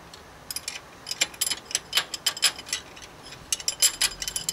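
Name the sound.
engine ticking from lifters in Valiant Charger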